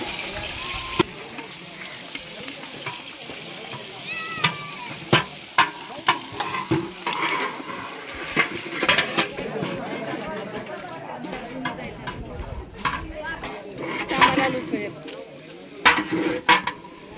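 Onion and chutney frying in a pan at a village fair, with steady sizzling and stirring scrapes throughout, and people chattering over it.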